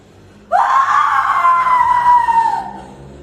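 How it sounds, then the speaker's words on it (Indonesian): A loud, drawn-out scream of agony from a person whose body is burning and crumbling to dust in a told story, a single sustained cry lasting a few seconds with no talk over it. "Calon orang menjerit kesakitan karena tubuhnya kebakar dan hancur menjadi debu."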